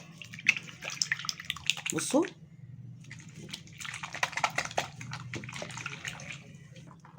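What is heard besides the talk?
tap water running while lathering homemade orange-peel soap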